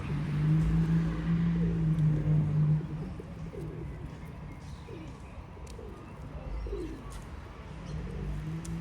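Pigeons coo repeatedly at close range in an urban spot where people feed them, the low rolling calls rising and falling over steady traffic and street noise.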